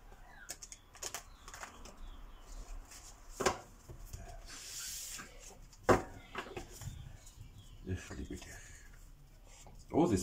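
Tarot cards being shuffled by hand, soft rubbing and papery riffles with a few sharper slaps and taps, close and quiet.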